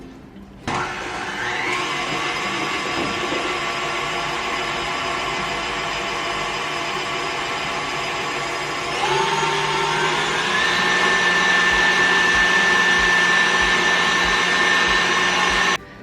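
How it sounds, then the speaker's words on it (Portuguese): An electric mixer runs continuously, beating butter and sugar for a cake, a steady whirring motor drone that starts abruptly, shifts pitch partway through as the load changes, and cuts off at the end. "Batemos então a manteiga e o açúcar por 2 minutinhos"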